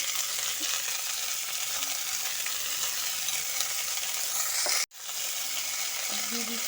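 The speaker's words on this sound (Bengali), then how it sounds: "এখন আমি এর মধ্যে দিয়ে দেবো চেরা কাঁচা লঙ্কা, আর দিয়ে দেবো কেটে ধুয়ে রাখা সর্ষে শাকটা" Mustard greens and slit green chilies fry in a hot pan with a loud, steady sizzle throughout, briefly broken by a stirring clatter near the end before the hiss resumes.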